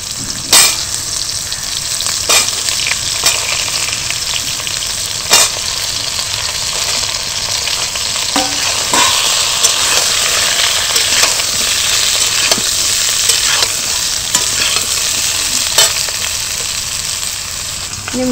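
Ridge gourd dropped into hot oil with fried tempering spices, a loud, steady sizzle and crackle throughout, punctuated by regular clacks of a spatula stirring against the pan, no voices.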